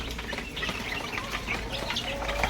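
Chicks chirping on a farm, faint high peeps scattered over a steady background hum, with some rustling and flapping nearby.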